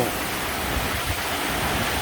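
Steady midday rain falling over rice paddies, a dense even hiss of drops on surfaces with no pauses, close and moderately loud, no voices.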